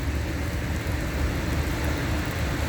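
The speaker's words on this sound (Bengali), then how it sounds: "এই দেখেন কি পর্যায়ে বৃষ্টি আছে।" Heavy rain pours steadily in Riyadh, Saudi Arabia, a dense, even hiss of falling water with a low rumbling undertone and no pause.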